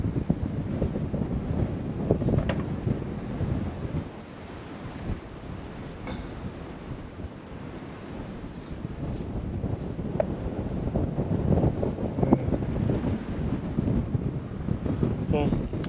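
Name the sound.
strong wind at a clifftop caravan site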